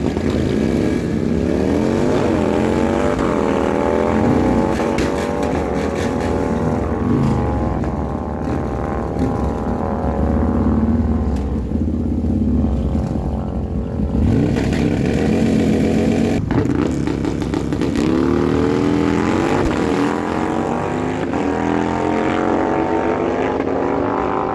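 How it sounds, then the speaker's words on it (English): A Harley-Davidson Road Glide motorcycle drag races down the track at Miramichi Dragway, reaching 140 mph: a loud, sustained engine roar rising and falling through gear changes, steady and close for the whole run. "Fred Lozier, left side of the track, 947, 140 miles an hour on that Harley Road Glide"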